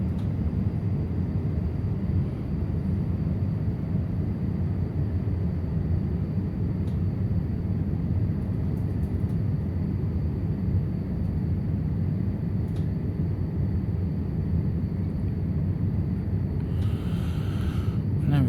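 A T-38 jet in Microsoft Flight Simulator 2024 throttling back, a steady broadband engine and wind roar that stays loud and even throughout with no distinct changes.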